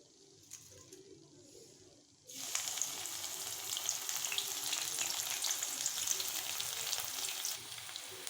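Garlic cloves, lightly crushed, frying in hot oil for a Tamil mixture snack, a steady close sizzle that bursts in after a quiet start and keeps crackling evenly to the end.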